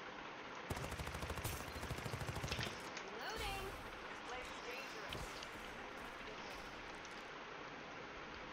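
Gunfire in the battle-royale video game Farlight 84, with a rapid automatic burst near the start followed by scattered single shots over a steady game background, including what sounds like a sniper's crack.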